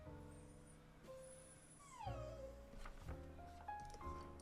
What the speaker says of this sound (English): my dog is currently crying